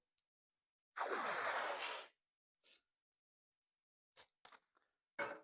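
Painter's tape peeled off its roll in one long, close ripping pull of about a second, followed by a few short, softer crackles and tugs as the strip is handled, with no talking.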